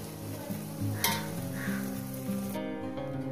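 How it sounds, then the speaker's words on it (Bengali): Egg and okra sizzle steadily in oil in a hot pan, with a soft crackle under occasional clinks of a utensil stirring and flipping. Close and moderately quiet, with no voices. "দেখাচ্ছি কিভাবে ভাজবো।"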